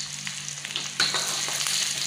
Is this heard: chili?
yes